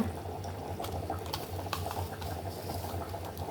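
Dried red chili and cumin tempering in two tablespoons of hot oil in a small kadai for elephant apple chutney, giving a steady, close bubbling crackle with faint pops throughout.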